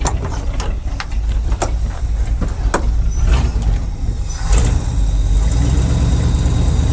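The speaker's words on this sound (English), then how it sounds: "the engine's running smooth, but barely running" An old abandoned Dodge Power Wagon service truck engine idles steadily and runs rough, with a continuous low rumble broken by sharp ticks and clatter. It stays close and moderately loud throughout.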